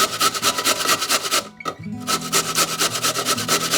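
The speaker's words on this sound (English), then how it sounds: "I have to grate also this potato, and so I'm using my shredder." A raw potato being grated on a hand shredder, heard as a fast, loud train of rhythmic rasping strokes. The strokes pause briefly midway, then resume at the same pace.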